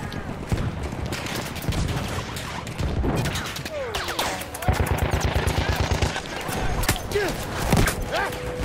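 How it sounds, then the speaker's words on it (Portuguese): Rapid machine-gun fire and scattered gunshots crackle through a Battlefield 1 battle as the player gets hit, coming in bursts under a player's voice, with clanking and whizzing game effects around them. "não para de tomar tiro não"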